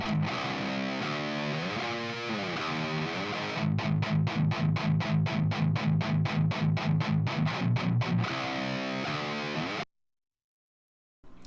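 Compressed, distorted electric guitar rings out on held chords, then pounds out a fast, even run of chugging muted strokes before cutting abruptly to silence.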